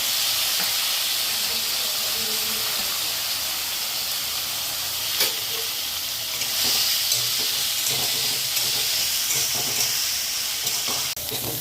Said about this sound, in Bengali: তেলে চিংড়ি মাছটাও ভাজবো। চিংড়ি মাছটা দিয়ে দেবো।